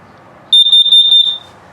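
An LP gas detector in a 2015 Rockwood ROO 23IKS camper beeps rapidly during a self-test, about six short high-pitched chirps in a quick burst, then falls silent.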